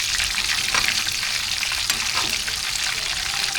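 Chicken fries in shallow oil with a dense, continuous crackling sizzle, close and loud throughout, without clear talk.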